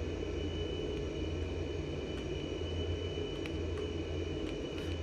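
An F/A-18 Super Hornet taxiing in a flight simulator video game, heard as a steady, loud jet engine drone with a low rumble and a high whine that hold even throughout, with no talk.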